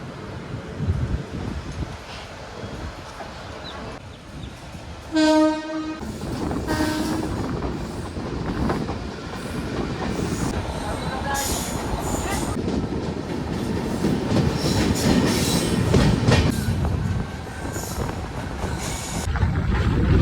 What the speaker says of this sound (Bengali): এই মুহূর্তে আমাদের ট্রেন ছেড়ে বেরিয়ে যাচ্ছে পুরী রেলওয়ে স্টেশন থেকে